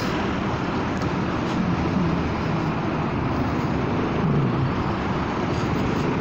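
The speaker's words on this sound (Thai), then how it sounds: "ตอนนี้รถเยอะวะ" Dense road traffic with many cars rushing past, heard from a Honda Forza 300 scooter, forming a steady, loud, unbroken roar of engines and tyre noise with no pauses.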